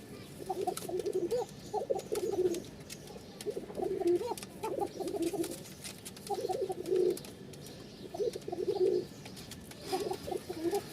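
Lahori pigeons coo in repeated bursts, each a cluster of soft throaty notes, returning roughly every two seconds against a steady background hiss; close and clear, with no voices.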